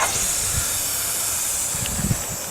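A garden hose is turned on outdoors and water rushes out in a steady, loud hiss that carries on without a break, with a few faint knocks underneath.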